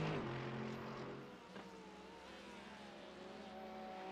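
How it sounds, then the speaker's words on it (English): A Mercedes GT3 race car in Vodafone livery in iRacing at Road Atlanta, its engine droning steadily with a rising, singing pitch after a brief dip, loud and continuous with no talk. "It's absolutely the best sounding car on the grid. I mean, listen to this motor. Listen to that sing."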